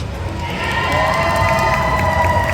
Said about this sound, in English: can we get a big round of applause for everyone that went on the stage?